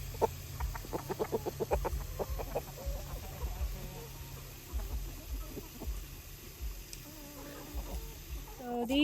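A flock of chickens clucks and murmurs in a coop during evening chores, with busy overlapping clucks early on, then softer scattered calls over a low hum.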